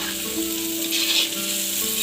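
Duck meat fries in a pan and is stirred, giving a steady, loud, close sizzle that hisses throughout with no speech over it.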